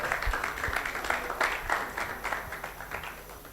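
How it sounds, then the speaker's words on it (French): At an AI4AFRICA conference on AI governance, an audience claps for people being called to the podium; the applause is fairly faint and somewhat distant, an uneven patter of many hands lasting a few seconds. "Avec vos applaudissements, s'il vous plaît."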